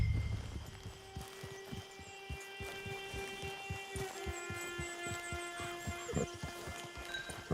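Horse hooves clip-clop in a steady walking rhythm in Red Dead Online, set against a constant low hum and faint ambient tones, with no talking.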